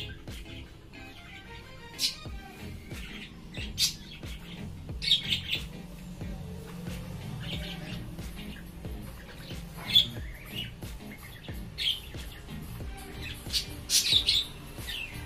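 Pet birds call back and forth indoors with repeated sharp squawks and chirps, some loud and close, over a low, steady background hum.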